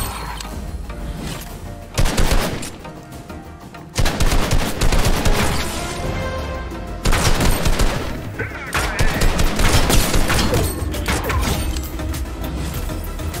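Bursts of rapid submachine-gun fire ring out in a shooter video game, loud and repeated in several volleys with brief pauses, layered over game sounds and music.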